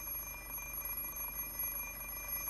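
Alarm clock ringing in the Fate/Stay Night visual novel, a faint, continuous electronic tone that holds steady throughout with a low background hum.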